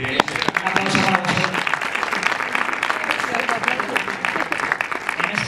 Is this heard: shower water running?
no